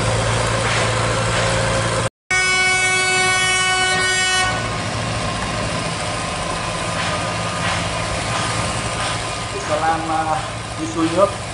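A river barge sounds a loud, sustained horn blast lasting about two seconds as it turns out of a narrow creek, over a constant engine drone, and someone talks afterward.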